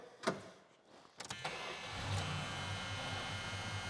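A 1979 Chrysler Cordoba engine cranks and fires, settling into a steady, loud idle rumble after a couple of brief mechanical clicks and a short starter burst.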